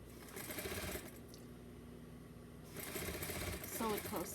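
Close-up sewing machine stitching near the edge of a doll romper seam, a quick rattling run that stops for a moment and then resumes, with a voice talking over it near the end.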